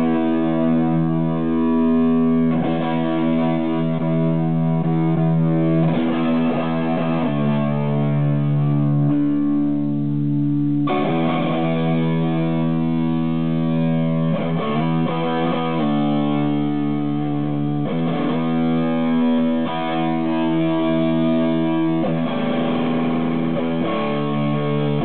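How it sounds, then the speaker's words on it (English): Electric guitar played through a chain of four Himmelstrutz fuzz distortion pedals, loud, saturated and sustained, with chords and riffs changing throughout and no talking. "I like this fuzz distortion."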